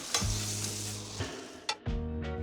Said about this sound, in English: So we're just about done with sauteing our spinach.